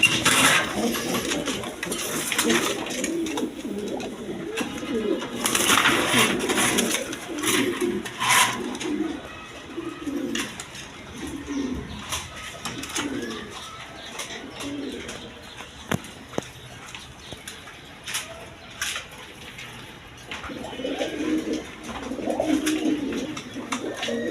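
A flock of healthy pigeons coos continuously in low, throaty phrases, several birds overlapping close by, with occasional small clicks and knocks among the cages.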